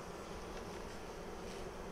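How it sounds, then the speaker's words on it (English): A honey bee fanning its wings at the hive gives a steady, continuous buzzing hum, close and moderately loud, with faint wind noise. "I wanted to show you this bee here is fanning."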